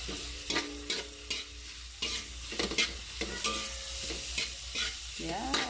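Cooked dried anchovies (dilis) are stirred in a frying pan, with repeated scraping strokes of a utensil over a steady sizzle, close and fairly loud.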